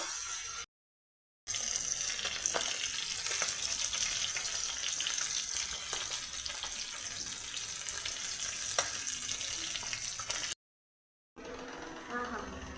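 Fish pieces fry in a hot pan with a steady, dense sizzle that runs almost continuously, broken by two short silent gaps, with occasional faint clinks and soft voices in the background.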